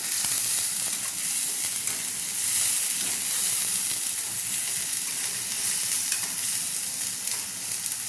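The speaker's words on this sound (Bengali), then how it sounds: "এইভাবে মশলাটাকে লাল লাল করে ভেজে নেবে" Spice paste sizzles and fries steadily in a pan for prawn malai curry, with occasional stirring scrapes over a continuous close hiss of hot oil, no voices.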